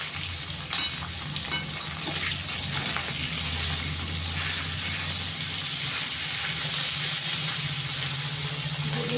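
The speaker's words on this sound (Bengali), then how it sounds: "মাছের মাথাগুলো ভেজে রেখেছিলাম আরেকবার ভালো করে কড়া করে ভেজে নেবো" Fish heads crisping in hot oil in a pan for a Bengali fish-head chorchori, giving a steady, close, loud sizzle with scraping stir strokes throughout and no talking.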